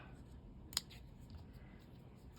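A single quick snip of scissors cutting paper for a handmade Christmas card, brief and soft against a quiet room.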